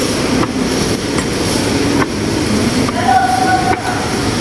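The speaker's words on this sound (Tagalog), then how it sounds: "Nandun na nga ang train." A train pulls into a station in Zhongli, Taiwan, with a loud close rumble of wheels, clicking rail joints and a thin brake squeal toward the end.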